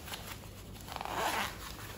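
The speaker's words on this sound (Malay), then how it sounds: "Kemudian ada lagi zip dari bahagian sini," A zipper on a biker jacket is pulled open or shut close by, a short burst of rasping teeth over a faint background hum with no voices.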